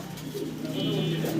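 Rajshahi Giribaz pigeons coo softly in a low, throaty burble, close by and brief, with a voice talking over them.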